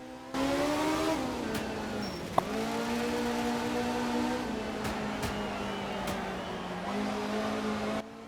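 Rally car driving in free roam in the video game Art of Rally, a steady engine drone with small shifts in pitch as it holds speed and changes gear, moderately loud with no talking.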